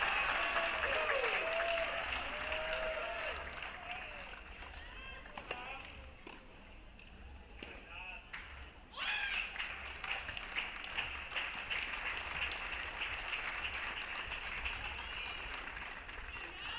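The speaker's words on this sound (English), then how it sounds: "how good the slow clap is executed on match point" Crowd applause at a college tennis match in the NCAA Division I championships builds around match point as a sustained, fairly distant wash of clapping with voices of commentators talking over it.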